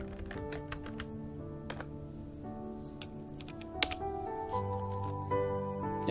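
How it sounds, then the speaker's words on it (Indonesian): Typing commands on a computer keyboard while manually configuring a static IP address, with scattered key clicks running through a steady background of tonal music. "Kita ketikkan instruksinya."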